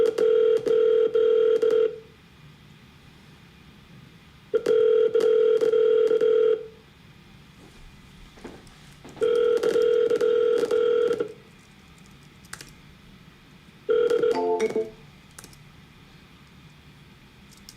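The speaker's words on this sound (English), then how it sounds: "I'm just going to dial back to back a couple times on them" During a sales cold call, a telephone line gives repeated ringback tones, four long buzzing rings separated by quiet gaps, with a few brief dialing beeps near the end and no speech.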